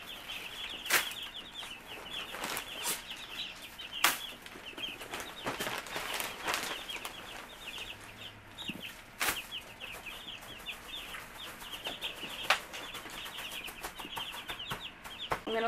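A group of Cornish Cross chicks peeping nonstop in a brooder, a dense chorus of high chirps with occasional rustling and soft thumps from bedding shavings nearby.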